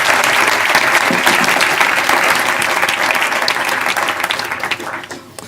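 Sustained round of applause from an audience thanking the guest speaker Glynn, steady loud clapping from many hands that tapers off toward the end.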